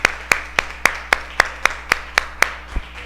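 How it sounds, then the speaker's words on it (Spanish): Crisp, evenly spaced handclaps ring out in a quick steady rhythm during a Spanish-language church service, sounding like a small group clapping in unison and fading out near the end. "rindamos a Dios un aplauso por su palabra"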